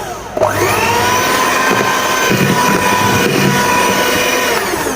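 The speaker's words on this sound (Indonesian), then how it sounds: "Kemudian aku mixer lagi sampai kecampur rata aja, pakai speed paling rendah." Electric hand mixer runs at its lowest speed through brownie batter for a steady, loud, continuous whir that starts abruptly and holds throughout.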